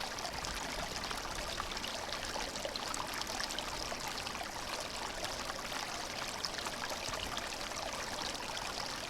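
A hand-pumped survival water filter outdoors fills a water bottle, giving a steady, close, unbroken pouring trickle that runs evenly throughout with no voices.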